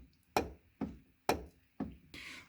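Knocking play in an aftermarket check strap on the front passenger door of a Mercedes 300SD W126, heard as five sharp clunks spaced roughly half a second apart, close and fairly loud with no talk.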